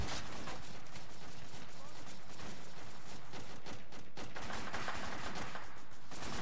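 Rapid gunfire in a first-person shooter video game, dense bursts of shots filling the clip at close range over steady game ambience, with players talking through it.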